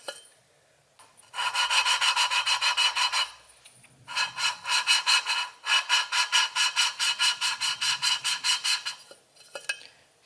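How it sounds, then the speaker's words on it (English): An engine valve is lapped against its seat with grinding paste, a rapid back-and-forth rasping in two long runs of steady strokes, close and clear, separated by a short pause. "We'll grind all the paste away and then lift it back up"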